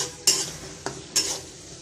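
Onions frying in a pan are stirred three times with a utensil, giving three distinct scraping sweeps over a soft, steady sizzle, close and alone.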